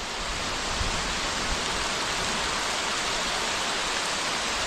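Heavy rain falling on a farm among fruit trees, a dense, steady hiss that stays even and unbroken from start to finish.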